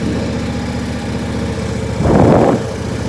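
A tractor engine, freshly restarted while warm, idles with a close, steady low chugging rhythm, then surges briefly into a louder, rougher burst before settling back.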